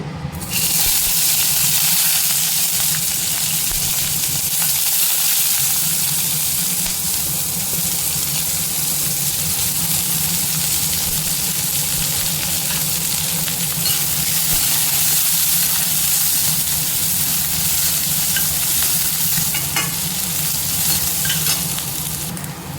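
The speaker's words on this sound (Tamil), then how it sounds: "வெங்காயம் லைட்டாக வதங்கினா போதும்" Onions and sliced green chillies sauté in hot oil in a pan, a loud, continuous sizzle that holds steady throughout with faint stirring scrapes underneath.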